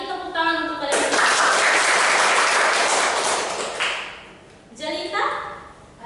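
Children applaud in a classroom, a burst of clapping lasting about three seconds that sits between stretches of talk; an adult voice and children's voices are heard before and after the clapping.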